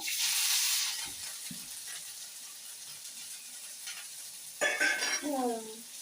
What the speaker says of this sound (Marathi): त्याच्यानंतर आपण अद्रक लसूण पेस्ट, कढीपत्ता फोडणीला टाकला.